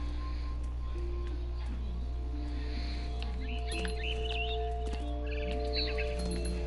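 A mother bird chirps in the video game What Remains of Edith Finch: short, bright chirps in the middle and later part, set over a steady hum and low game music.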